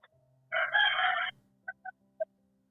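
A rooster lets out a short, close crow followed by a few brief clucks, with quiet background hum.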